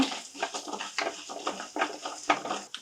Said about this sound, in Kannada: ಈಗ 1 ಟೀ ಸ್ಪೂನಷ್ಟು ಉದ್ದಿನಬೇಳೆ ಒಮ್ಮೆ ಚೆನ್ನಾಗಿ ಕೈ ಆಡಿಸಿ.